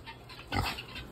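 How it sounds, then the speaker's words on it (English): A pet pig gives a single short, low grunt close by, standing out briefly above quiet room noise. "How's my baby pig?"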